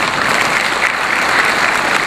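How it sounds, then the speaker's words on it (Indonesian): A large congress audience claps loudly and steadily for about two seconds at the 15th Indonesian Obstetrics and Gynecology Congress in Bali, 2012. The dense applause fills the hall, then cuts off abruptly. "boleh tepuk tangan"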